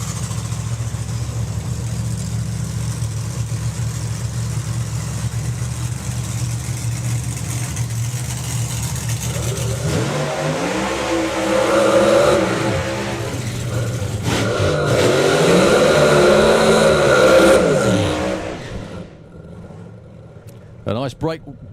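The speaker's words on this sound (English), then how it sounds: "A nice brake warming burnout for Andy there." Drag racing car revving through a brake-warming burnout at a Summer Nationals meet, its engine note rising and swelling loudly over a steady crowd-and-track background while a commentator talks throughout.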